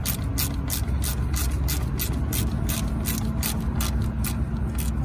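A ratchet wrench snugging down bolts on the throttle position sensor of a Freightliner Classic truck, a rapid, even series of close metallic clicks repeating steadily, with no talk.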